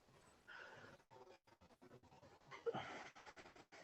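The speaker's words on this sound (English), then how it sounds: "Whenever you have pizza, he's gonna be yapping." A pet dog pants rapidly and steadily at close range, breathy rhythmic huffs with a brief whimper-like scratch near the end, with no voices.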